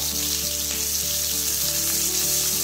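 Chopped onion fries in a couple of spoonfuls of oil in a pan, a steady close sizzle and crackle that runs unbroken with no voices.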